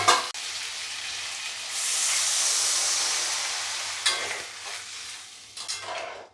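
Water hits a hot pan of fried potatoes for a Bengali potato curry and bursts into a loud, steady sizzling hiss that slowly fades, with a few clanks and stirring sounds near the end.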